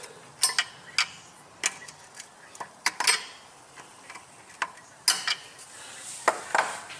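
A 3/8 wrench clicks and ticks while loosening the pinch bolt on a small engine's governor, giving sparse, close, quiet metallic taps at irregular intervals.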